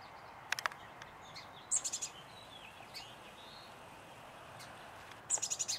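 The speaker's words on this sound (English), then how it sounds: "this is a chestnut-backed chickadee" A chestnut-backed chickadee gives a few short, high chips and thin calls, with a couple of rapid clusters, faint against a steady outdoor hiss with insects.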